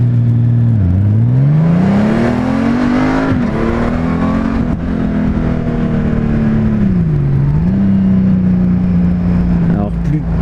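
A 2018 Honda Goldwing bagger motorcycle pulls away from a traffic light, its engine rising in pitch through several smooth upshifts, loud and close with wind rush.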